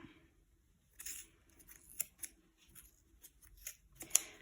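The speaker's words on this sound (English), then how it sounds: "Now we're going to use our scissors and cut this closed part." Scissors snip through pom pom yarn in a series of short, sharp, close cuts separated by quiet gaps, with a few louder crisp clips toward the end.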